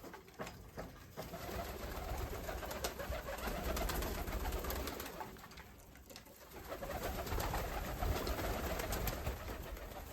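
Pigeons coo steadily in a dense flock at feeders, their soft throaty calls overlapping continuously with flutters and shuffling close by.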